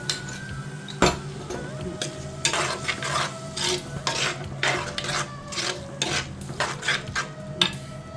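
Ground coconut paste is stirred into a dried prawn theeyal curry, with repeated scraping and clattering of a spoon against the pan in irregular strokes, close and fairly loud over a faint sizzle.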